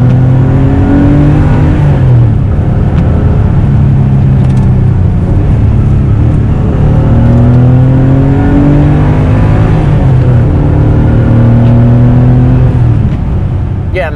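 An air-cooled Porsche 911 (964) flat-six drones loudly and continuously while driving, its pitch climbing and dropping repeatedly through revs and gear changes, heard from close inside the car.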